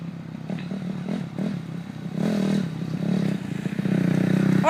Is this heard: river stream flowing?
no